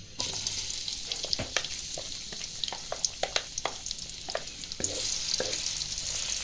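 Onions fry in hot oil in a kadai for a spicy potato and egg dish, giving a steady crackling sizzle with scattered sharp pops and a louder surge near the end; no talk.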